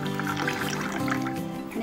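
Water poured from a glass into another glass holding four ice cubes and two spoons of raw mango pulp, a continuous gurgling fill with bright splashy trickles, close and loud.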